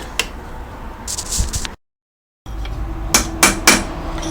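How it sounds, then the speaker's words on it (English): A hammer strikes a punch against the inside of a tail-shaft centre bearing in a few sharp metallic taps, with a brief silent gap between clusters of blows, close and clear. "So just sort of hit the punch on the inside there"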